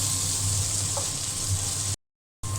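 Bitter gourd fries in oil with onion, salt and turmeric, giving a steady, close sizzle with a faint stirring scrape, broken by a brief silent gap before the crackle resumes.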